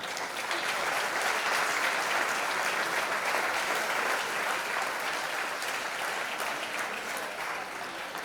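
A crowd at the Nit de l'Esport 2026 sports awards night in Sant Pol applauds a pioneer of women's sport, with dense, steady clapping that holds at full strength for about eight seconds, no voices over it.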